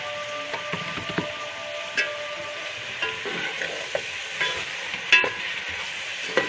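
Spices for an okra dish stir and fry in a pan, giving a steady sizzle broken by soft scraping knocks of the spoon at irregular intervals, close and clear with no talking.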